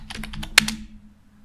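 Typing on a computer keyboard, a short burst of half a dozen crisp, close key clicks, the loudest near the middle, before it fades to quiet.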